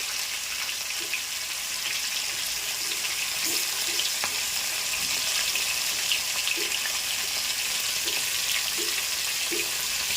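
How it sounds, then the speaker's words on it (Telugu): Pieces of bitter gourd deep-frying in oil, giving a continuous, even hiss and bubbling crackle with occasional soft clinks of a utensil, close up and with nobody speaking. "చక్కగా ఎర్రగా వేపేసుకోవాలి నూనెలో ఇలా"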